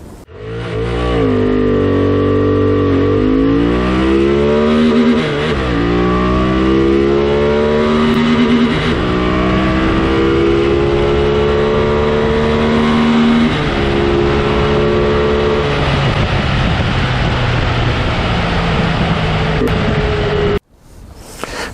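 A QJmotor SRT 800 motorcycle engine revs loudly and continuously while riding, pitch rising and falling through gear changes for about twenty seconds, close and dominant, cutting off abruptly near the end.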